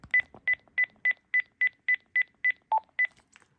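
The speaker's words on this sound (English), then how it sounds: "where the keytones sound like this" Eleven short, evenly spaced keypad beeps from a Panasonic cordless phone, nearly all at the same pitch, with one lower tone near the end, crisp and close with no talking.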